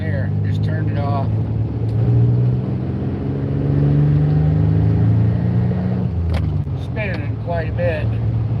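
A car driving in snow during a Michigan snowstorm, its engine droning steadily and rising as the wheels spin, with brief talking over it.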